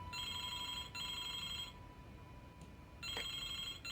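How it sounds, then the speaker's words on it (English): An old-style telephone bell rings in the video game Broken Sword 2, two steady electronic trills separated by a pause, clear and evenly loud over a low background hum with no voices. "Excuse me, the telephone."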